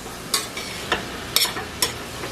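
Onions cooking in a pan for plantain empanadas, with soft sizzling and a few sharp clicks and scrapes of stirring at irregular intervals, close and moderately loud, with no voices.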